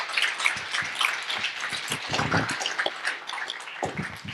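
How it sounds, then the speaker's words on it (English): An audience at an evening talk gives a round of applause, a steady crackle of many hands at moderate distance, with a few louder nearby claps. "Let's give him a big round of applause"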